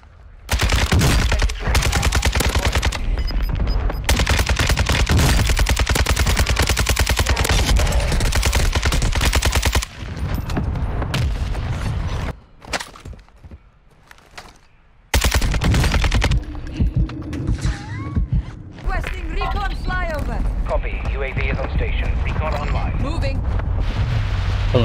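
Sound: called-in fire mission strike in video game Warzone 2

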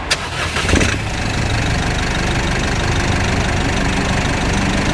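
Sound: Isuzu D-Max 1.9 Ddi diesel engine starting and idling

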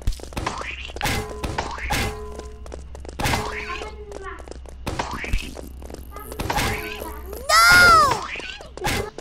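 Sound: character hitting in Roblox Barry's Prison Run, from a video game

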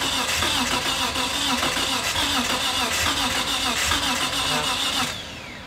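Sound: 1994 Nissan Skyline GT-R engine starting and running

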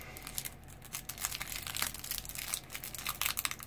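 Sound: opening a foil pack of collectible shinies

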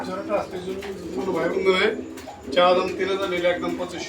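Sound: pigeons cooing

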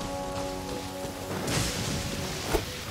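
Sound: heavy rain in the video game Genshin Impact

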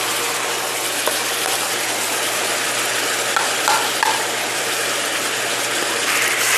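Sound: stir-frying spicy pork (jeyuk bokkeum) with seasoning over high heat

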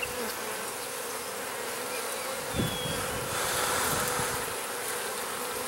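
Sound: honey bees buzzing on a hive frame

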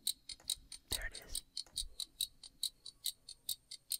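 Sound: clock ticking sound in a song track

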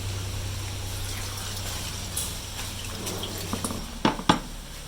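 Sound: water poured into a pot with guavas for jam

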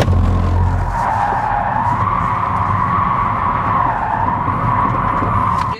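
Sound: Kia EV6 GT electric car drifting with tire squeal

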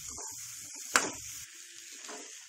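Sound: stirring boiled amla into pickle spice mix

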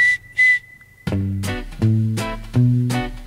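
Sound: whistling in a song

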